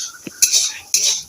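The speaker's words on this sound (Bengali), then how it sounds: "আলুটা ভাজা হয়ে গেছে, এবার আমি নামিয়ে নেব" Fried potatoes being lifted out of a pan, two sharp scraping metal clinks of a utensil against the pan with a soft knock before them, close and brief.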